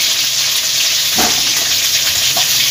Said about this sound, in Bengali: আলু কেটে রেখে দিয়েছিলাম, সেটা ভেজে নেব।